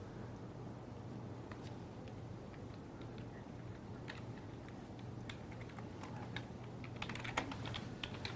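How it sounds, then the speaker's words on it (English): Faint, irregular keyboard clicking carries from someone chatting online during a live poker night broadcast, scattered taps that quicken into a denser burst near the end over a steady low hum. "the clicking, the clickety-clacking you can hear is annoying you. That's our carer chatting away."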